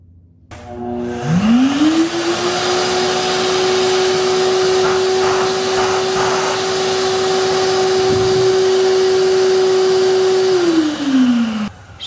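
A Giraffe Tools Grandstorm retractable vacuum cleaner motor spins up, runs with a steady whine for about nine seconds, then winds down, fairly loud and close with no talking.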